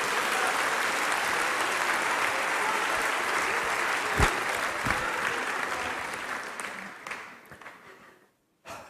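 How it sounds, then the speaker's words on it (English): A church congregation applauding, a broad, even roar of clapping that holds steady before tapering off and stopping near the end. "All applause in this church goes to the Heavenly Father, not to man."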